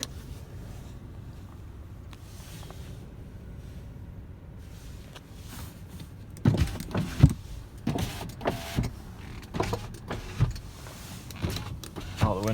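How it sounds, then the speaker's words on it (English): Power windows on a 2012 Audi A4 Quattro with a six-speed manual run up and down in the cabin, a faint motor whir at first, then several louder bursts of motor hum and thumps as windows stop. "All the windows work as they should."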